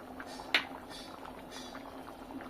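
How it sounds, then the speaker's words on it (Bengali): A hot spice tempering drops into a pot of drumstick lentil dal with one brief, sharp sizzling splash, then a faint low simmer continues quietly on its own. "এবার এই ডালের মধ্যে দিয়ে দিলাম ফোড়ন"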